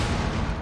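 Grenade blast in Rainbow Six Siege, a loud, dense, rumbling burst that fills the whole moment with heavy low boom and noisy crackle, close and sustained with no pause.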